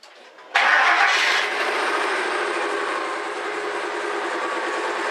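A 2000 Ford Expedition 4.6 engine with a new muffler and tailpipe cranks and catches, then settles into a steady, smooth idle that continues close by without any voices.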